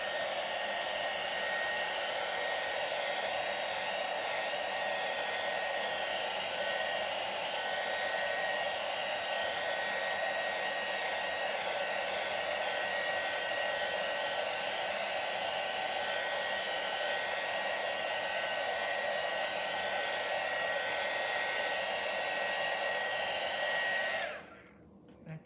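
A hair dryer blows steadily and loudly across poured acrylic paint on a canvas, a continuous whirring rush that holds for about twenty-four seconds before it cuts off abruptly.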